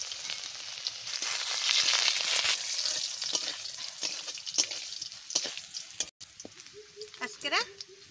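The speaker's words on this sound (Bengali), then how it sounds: "তেল গরম হয়ে গেছে, আমি রসুন দিয়ে দিচ্ছি" Garlic sizzles in hot oil in a wok, a bright, loud hiss that rises sharply and slowly settles into softer crackling, with stirring clinks and a brief voice near the end.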